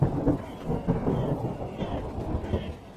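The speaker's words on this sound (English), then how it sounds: "a terrible storm raged through the land, and as Sparkle tried to find shelter, a bolt of lightning struck her horn" A rumbling thunderstorm with rain rolls on steadily, deep thunder swelling and fading beneath a constant hiss of falling rain, with no voices.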